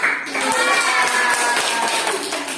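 Classroom clapping from children for a student group during a lesson, busy scattered claps mixed with lively kids' voices and chatter, fairly loud and close throughout.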